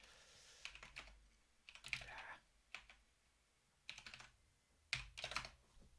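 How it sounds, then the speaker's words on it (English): Keys clatter on a computer keyboard in several short, quick bursts separated by pauses, close and fairly quiet, with no talking. "What am I typing today?"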